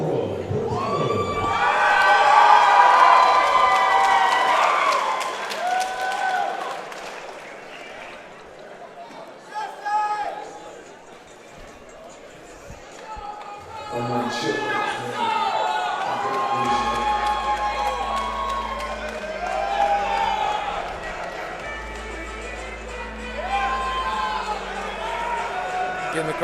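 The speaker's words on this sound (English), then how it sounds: "Getting the crowd going here." A fight-night crowd cheers and shouts as a fighter enters the red corner, a loud, sustained roar with whoops that dips briefly midway and then swells again under an announcer's voice.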